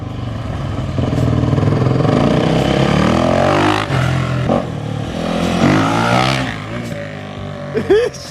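A dirt bike engine revs hard during a wheelie attempt, with rising and falling throttle bursts that are loud and close. Voices talk over parts of it.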